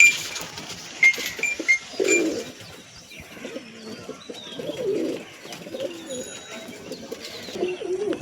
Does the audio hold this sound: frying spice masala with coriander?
no